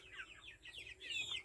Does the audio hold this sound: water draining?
no